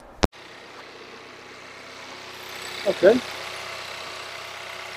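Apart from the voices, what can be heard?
VW MK7 Golf R engine starting and idling after spark plug replacement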